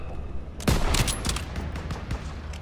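Call of Duty WWII battlefield gunfire in a town square, a sudden sharp volley followed by several scattered shots and bursts, fairly close and punchy over constant battle rumble.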